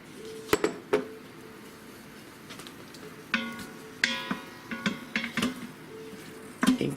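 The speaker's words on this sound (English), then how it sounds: "Let's go ahead and add the stew meat." Beef brisket stew meat going into an Instant Pot with oil, heard as sharp clanks and metallic scrapes of a utensil against the pot in irregular bursts, close and fairly loud, with a faint sizzle beneath.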